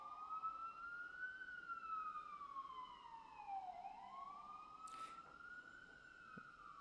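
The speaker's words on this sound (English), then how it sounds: "Great, here's a siren." Siren of a passing emergency vehicle wailing at moderate distance, its tone sweeping slowly down and back up, steady and alone with faint traffic beneath and a brief sharp noise near the end.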